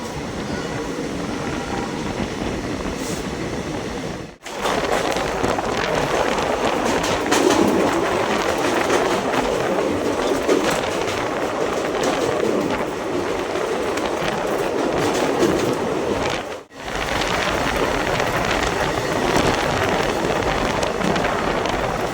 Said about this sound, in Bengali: হচ্ছে আলিপুরদুয়ার লোকাল ট্রেন, বুঝতে পারছো, প্যাসেঞ্জার ট্রেন সব ছোটো ছোটো